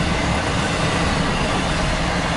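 A Norfolk Southern intermodal freight train, the NS 20K, roars past fast and close in a dense, steady wall of rail and wheel noise that holds loud and unbroken throughout.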